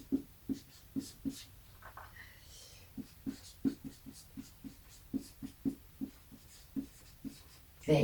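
A pen writes by hand on paper, jotting down Korean four-pillars (saju) charts. Close, faint strokes tap and scratch in a regular rhythm, with no talking.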